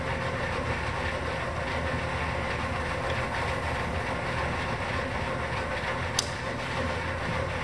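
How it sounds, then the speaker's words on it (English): A Hardinge 1-1/2 HP second operation lathe, model HC, runs with its feed motor on but the feeds disengaged, giving a steady, even mechanical hum and rattle with one sharp click near the end. "Now the feed motor can be running without the feeds engaged."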